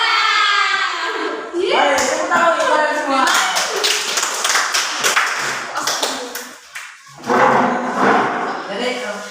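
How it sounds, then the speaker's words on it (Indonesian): A school class of seventh graders claps hands together in a classroom, a loud, ragged burst of applause running through most of the stretch with a brief lull, mixed with children's voices and a teacher speaking. "tepuk tangan untuk kalian semua"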